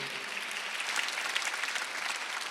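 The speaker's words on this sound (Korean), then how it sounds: "박수 한번 돌려보세요" Church congregation applauding, a soft, even wash of clapping that stays steady and somewhat distant for the whole brief moment.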